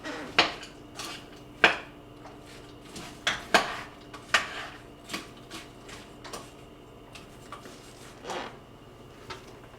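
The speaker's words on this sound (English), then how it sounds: "Stop and give that pot a stir." A pot being stirred with a utensil, irregular metallic clinks and taps against the sides, fairly close, with no talking.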